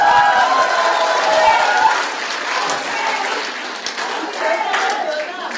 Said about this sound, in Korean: 기왕 박수 치실 것 같아요.